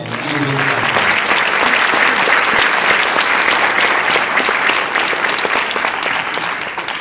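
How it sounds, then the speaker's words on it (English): Audience applause at a middle school jazz band performance greets a singer walking on, with steady, loud, dense clapping that runs unbroken for the full seven seconds. "Let's give her a big round of applause."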